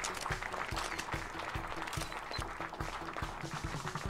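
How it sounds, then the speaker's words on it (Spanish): Steady crowd applause on a fashion runway in the Roblox game Fashion Famous, continuous and dense over rhythmic background music with a regular low beat. "A ver cuántos aplausos nos ganamos"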